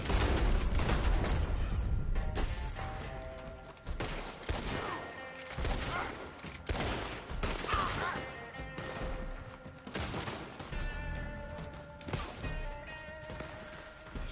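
Repeated shotgun blasts from gunfire in the online western game Red Dead Online, loud bursts coming in quick clusters with heavy booming thuds and short gaps between volleys.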